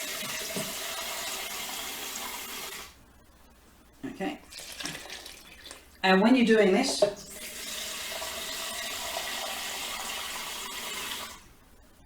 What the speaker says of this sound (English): And then I'm just going to top up with more water.